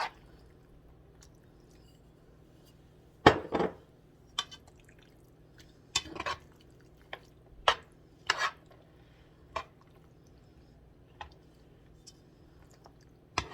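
Pasta being mixed with meat sauce for pastitsio gives sparse, close, wet squishes and clinks of a utensil against the dish, separated by quiet gaps.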